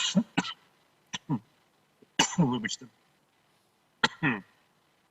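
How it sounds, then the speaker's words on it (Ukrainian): Several sharp coughs and throat clearings in quick bursts, close to the microphone, with a short spoken word among them. "Я одразу почав кашляти."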